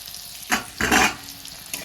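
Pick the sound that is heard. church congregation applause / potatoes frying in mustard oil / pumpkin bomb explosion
potatoes frying in mustard oil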